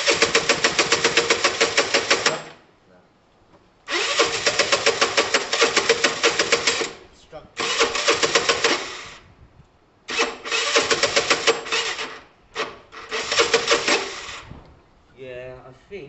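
A Piaggio Typhoon scooter engine fires up for its first start with the throttle cable unconnected, giving five or six loud close bursts of buzzing running separated by short silences, with a brief voice near the end.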